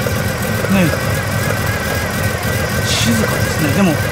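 A Nissan Skyline GT-R's S20 engine idles quietly and steadily, a low smooth rumble with faint voices murmuring in the background.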